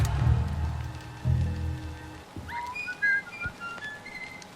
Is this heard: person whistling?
yes